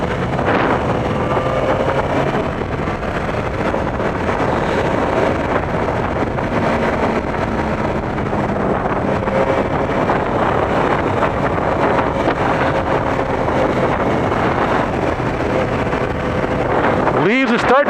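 Steady, loud wind roar and engine drone from a Yamaha FJ motorcycle cruising at 5,000–6,000 RPM, constant throughout with buffeting rumble and no breaks.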